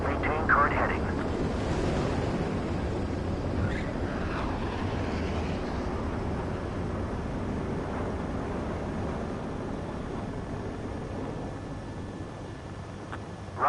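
Fighter jet touching down on a runway in the Ace Combat 7 flight game, a steady broad engine roar and rumble continuing throughout at even loudness, with radio-style voices talking over it.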